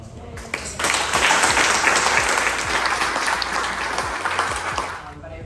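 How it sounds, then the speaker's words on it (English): Loud audience applause fills a hall at an awards ceremony held at the Westin Nanea, breaking out after a brief pause and holding steady as a dense wash of clapping before easing off at the end. "Round of applause."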